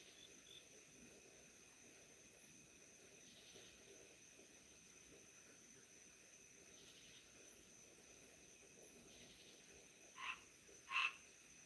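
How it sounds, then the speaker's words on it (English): A single frog calls during a live stream, giving two short, sharp croaks near the end after a long stretch of faint, steady background hiss and insect-like drone. "There's a noisy frog here today"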